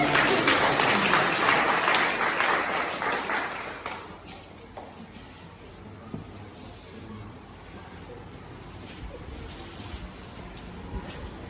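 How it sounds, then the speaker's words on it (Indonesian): Wedding guests applauding at a church marriage blessing, a full wash of clapping for the first few seconds that tapers away and leaves quiet room tone with faint knocks. "Kita berikan tepuk tangan dulu."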